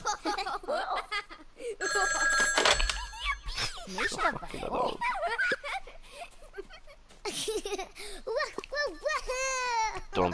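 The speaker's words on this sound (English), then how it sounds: "And the phone got a phone call." Telephone ringing in the video game Wattam, a brief bright trilling ring near the start amid cheerful cartoonish game voices and chatter, with a person talking over much of it.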